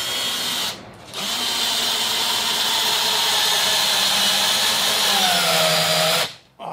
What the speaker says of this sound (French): je vais venir visser, finir de visser mon encadrement